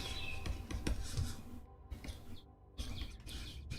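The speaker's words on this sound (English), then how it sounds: "That's my birds chirping." Pet birds chirping indoors, faint quick tweets and calls scattered in short bursts with brief pauses between them, quiet and close.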